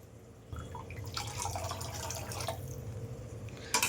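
Water poured into a cooking pot for vegetable upma, three cups measured in, a soft, steady trickle and splash lasting a few seconds, close but quiet.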